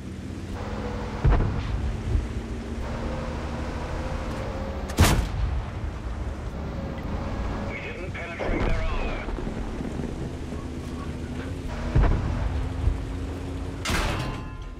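Tank cannon shots in World of Tanks, featuring a Tiger I and the FV201 A45, ring out as several loud, sharp blasts spaced a few seconds apart over a steady rumbling engine drone, with a voice talking throughout.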